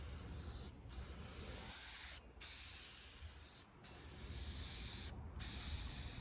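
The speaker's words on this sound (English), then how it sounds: "Get a nice thick coat of this primer on." Primer sprays from a can onto the bumper of a 1966 International Harvester in four long, close hissing bursts, each separated by a brief pause.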